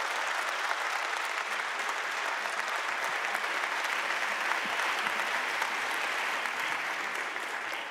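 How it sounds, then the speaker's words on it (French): Sustained applause from a conference audience for the panel speakers, a dense steady clatter of many hands held at an even level for the whole stretch, with no talk over it. "on peut les applaudir."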